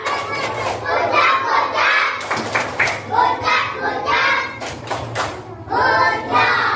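Children in a classroom perform the 'tepuk gojak' clapping routine, rhythmic hand claps mixed with their chanting voices, loud and close, with thumps and group noise throughout.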